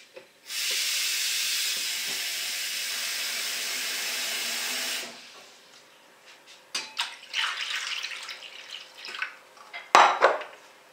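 A pudding mold set into a pot of water on the stove: a loud steady hiss for several seconds, then a series of scattered metallic clinks and knocks of pot and mold, near, with no talking.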